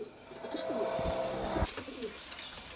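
Madrasi flying pigeons kept for sale, several birds giving low soft coos over a steady background hiss, with a brief louder rustle or thump partway through.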